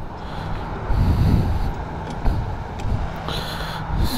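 A 2021 Harley-Davidson Freewheeler trike rides along, its engine a steady low rumble with a swell of power partway through and faint wind noise, alone without voices.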